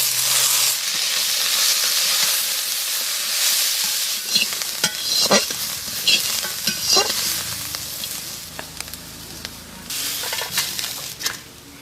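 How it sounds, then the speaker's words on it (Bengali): Cumin, coriander and chopped onion frying in mustard oil in a wok, a loud steady sizzle with hiss, then scraping stirs and clatters as the spices are turned. "জিরে ভেজে নেব ধনে ভেজে নেব পেঁয়াজ কুচি"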